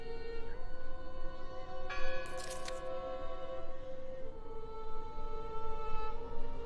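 Church bell ringing inside a boarded-up building in the video game Draugen, a brief bright chime of struck bell tones standing out over a sustained hum of in-game ambience and music.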